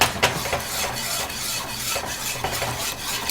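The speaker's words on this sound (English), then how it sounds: "Add some, then whisk away." Cornstarch being whisked into a tembleque coconut mixture in a pot, producing rhythmic metal-on-pot scraping and stirring strokes, close and fairly loud, with no talking.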